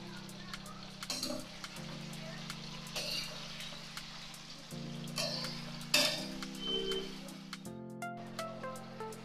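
Spices with green chilli, ginger, coriander, cumin, turmeric and garam masala sautéed and stirred in a pan for a Bengali cabbage and fish dish, a steady low sizzle with scattered utensil scrapes and clinks.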